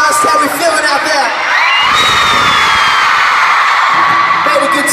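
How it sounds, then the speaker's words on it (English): A loud concert crowd in Belfast cheers, whoops and screams continuously at a show, a dense, high-pitched roar that stays strong throughout. "freaking, epic, loud crowd"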